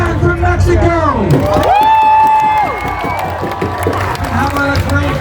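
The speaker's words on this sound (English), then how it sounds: "How about a great big applause for the young man from Mexico?" Spectators at a Renaissance fair jousting arena cheer and clap loudly, with rising whoops and shrill children's shouts over a dense, continuous roar of applause.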